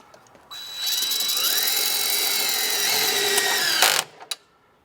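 Through bolts being driven back into a Sta-Rite spa pump with a power drill, one steady close whir of about three seconds ending in a sharp stop and a brief final burst.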